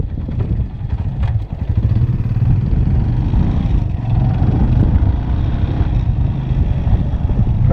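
Steady, loud engine drone from a Suzuki GS 150 motorcycle riding with the throttle locked, a constant mid-pitched roar with wind and road rumble and no change in speed.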